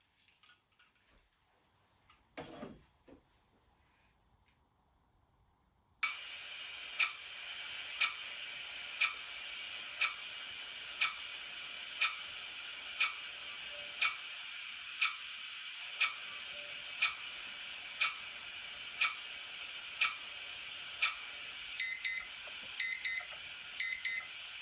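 A timer ticks steadily and quietly with regular metallic pulses roughly once per second, then ends in a rapid ringing chime; a brief knock is heard before the ticking starts.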